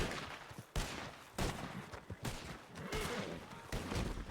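Rapid, overlapping gunfire from a Red Dead Redemption 2 roleplay shootout on a WildRP server, sharp bursts and volleys crackling throughout, fairly distant and dense, with no talking over it.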